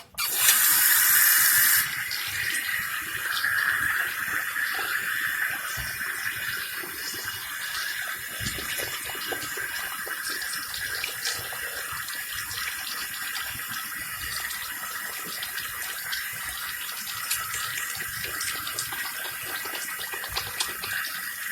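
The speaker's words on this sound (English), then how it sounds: "So let me wash my hands real quick." Tap water runs steadily into a sink as hands are washed with soap, a continuous close splashing hiss with a louder gush at the start and faint rubbing beneath.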